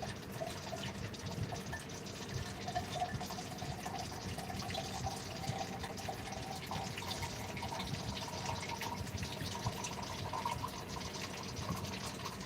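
Tap water runs steadily into a container, a soft, constant trickle with faint dripping. It sounds quiet and a little distant, with no voices.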